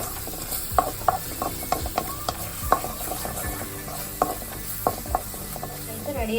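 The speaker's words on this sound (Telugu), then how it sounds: "ఇప్పుడు బాగా కలుపుతున్నాం." Spices and garam masala are stirred in a cooking pan for tomato rice, with repeated scraping and clinking strokes of a spoon against the metal over a soft sizzle.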